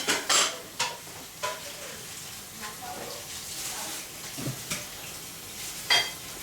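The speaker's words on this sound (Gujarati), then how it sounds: "જીગાબેન વાસણ ઘસી રહ્યા છે" Dishes being scrubbed by hand, with intermittent clatters and scraping strokes of pots and utensils, a few sharper knocks standing out, close by with a faint voice in the background.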